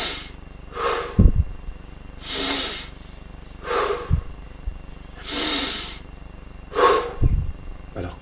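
Slow, deep breathing during a meditation session, drawing air in through the nose and out through the mouth, with four or five loud, close breath cycles, each a long airy rush separated by short pauses and no talking.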